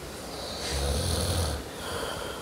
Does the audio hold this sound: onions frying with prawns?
no